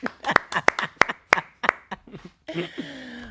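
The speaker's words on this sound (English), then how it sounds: "So we are just going to give a hand clap for that." Hand clapping in a small room, roughly eight sharp, close claps in an uneven rhythm, followed by a short burst of other sound at the end.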